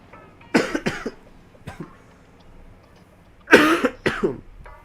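Two bursts of harsh, close coughing, each a quick double cough, separated by a faint single throat sound in between.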